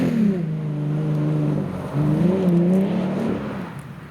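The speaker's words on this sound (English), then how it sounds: "I looked up some sound clips of the Magnaflow exhaust" Jeep Gladiator fitted with a Magnaflow Rock Crawler exhaust revs up, a deep, throaty engine drone rising in pitch, dipping briefly, then climbing again, loud and sustained without talk.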